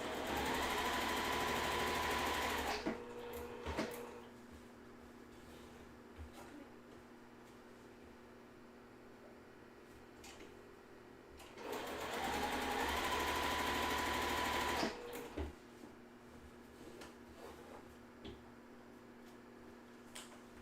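A sewing machine stitches a quilt block in two short bursts of steady, fast whirring, each lasting about three seconds, with quiet pauses and small clicks between them.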